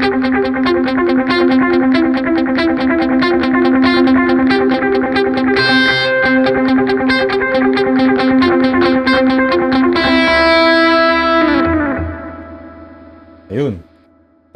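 An electric guitar played through the delay effect of a Valeton GP-100 multi-effects unit picks out rapid repeating notes, each echoed in a dense rhythmic trail, then ends on a ringing chord that fades out, followed by a brief plucked note.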